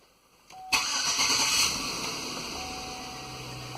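A 2005 Chevrolet Suburban with a 5.3 engine cranks briefly and catches, then settles into a steady idle close by, with a faint electronic chime before the start and no talking.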